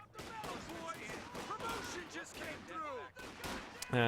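Gunfire crackles through a Company of Heroes 2 firefight between riflemen and Grenadiers: sharp shots and bursts scattered over a busy game soundscape, with sweeping tonal effects and voice-like sounds woven through it.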